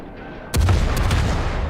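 Naval guns fire from a ship in World of Warships: a single heavy boom erupts after a quiet stretch, followed by a rumbling tail and a few sharp secondary cracks, loud and close.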